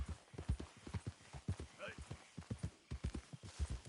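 Horse hooves clip-clop in a steady trotting rhythm in Red Dead Redemption 2, close and prominent, with a short soft voice-like sound in the middle.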